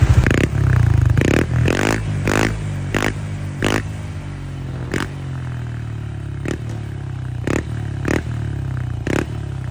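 A Honda Click scooter fitted with an ORVR blue tip exhaust pipe revs in a series of sharp, loud throttle blips over a rumbling idle, close by, fading to steadier idling with occasional crisp bursts.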